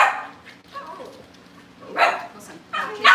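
Cavalier puppy giving short yipping barks in a family home, a few close bursts separated by pauses, with people talking nearby.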